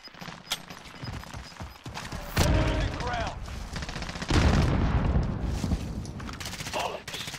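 Gunfire in the battle royale game Warzone, rapid bursts of shots in close succession that swell into sustained volleys, with a voice talking over parts of it.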